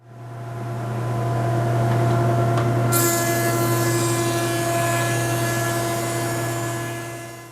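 A Jet JP20 20-inch helical-head planer runs with a loud, steady motor drone, then adds a bright, hissing cutting roar about three seconds in as it planes quarter-sawn white oak, continuing evenly before tapering off.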